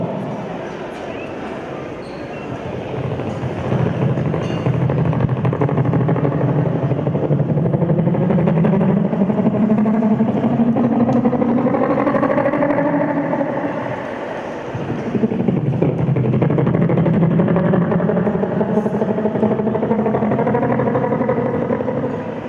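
A performer on stage at a company anniversary event imitates a helicopter with his voice, a loud sustained throaty drone with rapid fluttering pulses, held for long stretches with one brief break midway.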